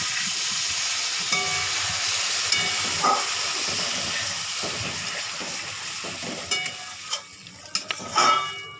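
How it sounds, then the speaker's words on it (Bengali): Water is poured into a pan of sizzling chicken kofta curry, producing a steady loud hiss and bubbling that carries through, with a few clattering utensil knocks near the end. "এবার আমি দিয়ে দেবো পরিমাণ মতন জল"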